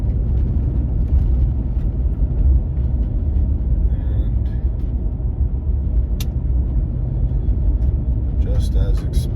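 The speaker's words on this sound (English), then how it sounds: "just now starting to hit some of the washboard roads" A Ford F-150 Tremor pickup drives over a washboard dirt road, giving a steady, loud low rumble and constant rattling road noise from inside the cab for the whole stretch, with a few faint creaks near the end.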